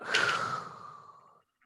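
A voice imitates a long breath out, a breathy exhale that fades over about a second and a half, heard alone and close.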